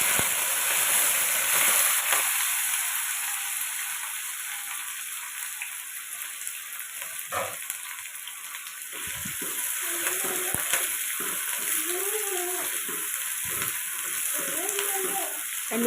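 Ginger, onion, tomato and green chili frying in hot oil for a spicy aloo gobi, giving a steady, close sizzle with stirring scrapes throughout and brief talk partway through.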